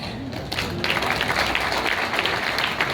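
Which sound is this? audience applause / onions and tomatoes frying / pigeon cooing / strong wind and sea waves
audience applause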